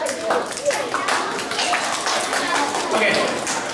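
Children at a school community assembly clap in a scattered, uneven burst, soft taps under a busy room with voices.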